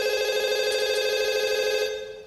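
A telephone rings loud and steady in a Breaking Bad episode, one sustained electronic trill that cuts off near the end.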